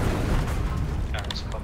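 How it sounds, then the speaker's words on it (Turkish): A tank explodes in the video game Enlisted, heard as a heavy, rumbling boom with sustained low-end roar, followed by brief sharper crackles, loud and close. "Tanka bomba atana kadar tank patlıyor."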